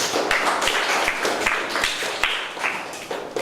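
A classroom of schoolchildren at SK Kampung Berangan, Pasir Puteh, claps together in a steady, fairly loud round of applause. Sharp hand strikes stand out over the continuous wash of many hands for the whole stretch.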